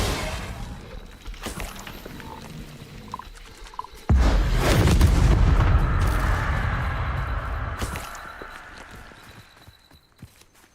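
A Bombarda spell explosion in the video game Hogwarts Legacy bursts suddenly and loudly after scattered lighter impacts and footsteps, then a heavy rumble slowly fades away.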